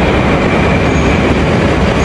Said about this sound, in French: le métro de Moscou